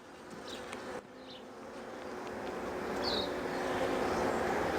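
Honey bees hum steadily in an opened hive whose colony is afflicted with deformed wing syndrome, a dense insect drone that swells gradually louder, with a few brief nearby buzzes passing close.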